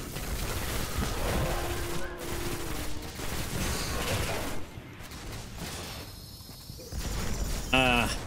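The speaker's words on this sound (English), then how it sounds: "Watching explosions." Explosions in Minecraft rumble and crack in dense, repeated blasts, loud booming bursts crowding one another, with a player talking over the chaos at times.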